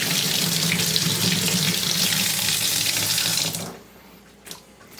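Water gushes from a tap in a small barndominium, a loud steady hiss that runs unbroken for several seconds, then cuts off abruptly, leaving a quiet room with a faint clunk.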